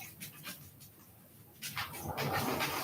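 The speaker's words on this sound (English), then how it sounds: "Of course, my dog's going to bark." A dog pants and whimpers close by indoors, giving soft breathy huffs and faint whines that grow busier toward the end, with no talking.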